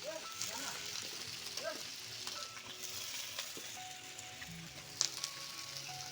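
Meat sizzles and fries in a large feast-sized kadai, a soft steady crackle with occasional stirring clinks and a sharp scrape near the end, fairly quiet with faint voices in the background.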